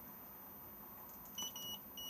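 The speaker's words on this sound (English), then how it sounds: "The reason we're now getting a warning beep is because we are not hitched up to the car at the moment with the engine running." Lunar Clubman SE caravan control panel gives a short series of thin, high electronic warning beeps when unhitched from the car, faint and repeated over a quiet background hum.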